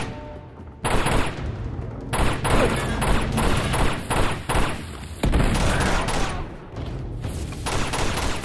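Gunfire and grenade explosions in the Uncharted 2 video game create dense, loud bursts of rapid shots, with heavy booms rolling through the sustained firefight.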